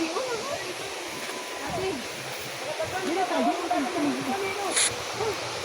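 Rushing water roars steadily at an outdoor bathing spot in Iligan City, a continuous close wash of noise with voices talking over it.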